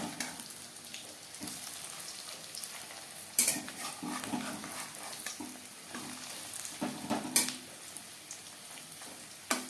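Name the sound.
frying fish roe fritters in a pan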